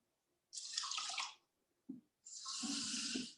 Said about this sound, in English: we're going to put in 2 cups of water plus a little bit more